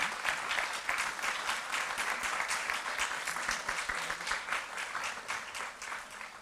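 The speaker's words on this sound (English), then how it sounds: "big round of applause, please, for our panelists" A conference audience applauding panelists steadily, dense clapping at an even level throughout, with no talking over it.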